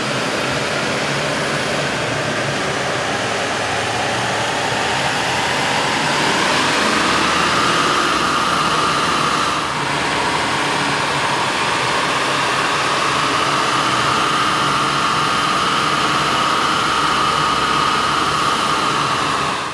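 A 2005–2007 Chevrolet Silverado 6.6L diesel with a K&N air intake runs on a dyno, a loud continuous roar with broad rushing noise and a tone that rises and then holds steady for about twenty seconds.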